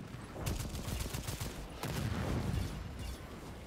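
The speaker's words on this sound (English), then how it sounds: "Throwing grenade. Raw science. Fire in the hole." Sustained gunfire in the video game Second Extinction, with a grenade explosion, comes as dense overlapping shots and low booms at moderate loudness, fairly steady across the moment with no talk over it.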